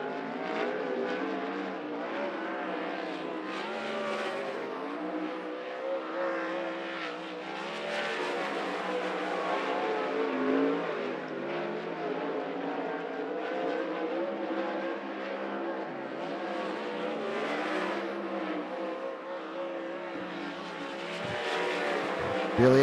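410 sprint cars running qualifying laps on a dirt track, a continuous loud engine roar that rises and falls as the cars accelerate and pass, sustained throughout with no voices heard.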